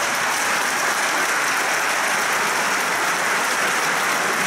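A crowd applauds the staff at a Leclerc store opening, steady dense clapping filling the whole stretch at even loudness with no voices over it.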